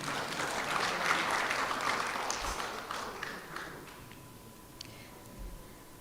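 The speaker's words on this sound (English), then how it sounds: "let's give Ms. Sarah another well-deserved round of applause." An audience at a regional forum on the ASCC Strategic Plan claps in a moderate round of applause that swells briefly, then thins and fades over a few seconds into scattered taps.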